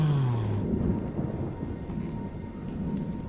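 A thunderstorm in Resident Evil Requiem at a hospital: a deep, continuous rolling rumble of thunder under a steady rain hiss, loud throughout with no voices.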